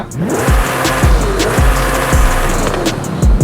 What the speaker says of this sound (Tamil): நம்ம ஜெஸ்கோட சவுண்ட் கேளுங்க